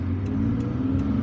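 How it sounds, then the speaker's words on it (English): Oncoming car traffic passes a driver waiting at a stop sign on a palm-lined road in Algiers, a steady, loud engine and tyre rumble with no break. "I need to wait for traffic to pass, oncoming traffic to pass,"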